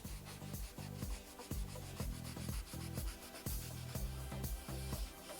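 Dark wax is worked with steady, rhythmic rubbing strokes over textured chalk paint, a quiet scratchy brushing repeated about twice a second throughout, with no speech.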